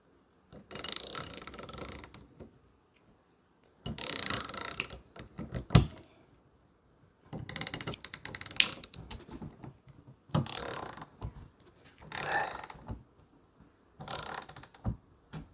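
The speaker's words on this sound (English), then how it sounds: "We got to tighten this nut. So take your 5/8." Bursts of metallic ratcheting as a 5/8 wrench snugs a nut on a 3-way air swivel adapter, coming in five separate close, moderately loud runs with short pauses between.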